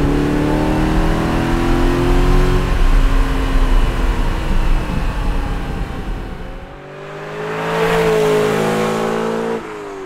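A Lamborghini Jalpa V8 engine revs hard and accelerates, a loud rising roar that drops off briefly and climbs again before fading, with no talking.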